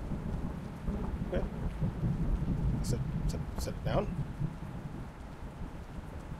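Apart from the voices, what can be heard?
rain and thunder in a horror video game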